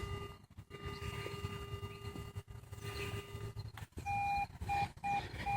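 Metal detector signal tones sound over a shallow buried target at about two inches, a few short repeated beeps near the end over faint rustling outdoor background noise.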